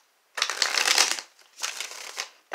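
Tarot cards are shuffled by hand in two quick riffling bursts, crisp and close, separated by a brief pause, with a short snap at the end.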